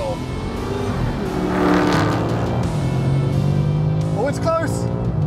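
A 2022 BMW M5 CS and a Dodge Charger Hellcat Redeye accelerate hard side by side in a roll race, their engines droning and climbing in pitch through gear changes, loud and close, with a voice speaking over them.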